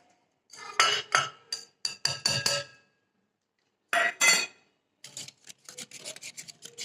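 Sugar being mixed into chocolate cake batter in a bowl, with bursts of scraping and rasping strokes against the bowl and occasional clinks, separated by short pauses, close and fairly loud with no talking.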